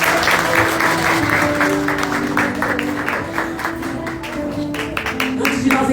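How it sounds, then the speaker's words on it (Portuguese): A church congregation stands and applauds Jesus during a Christmas service, steady dense clapping from a large crowd filling the room, loud and continuous throughout with a faint musical tone underneath. "Será que você pode ficar de pé aplaudindo a Jesus?"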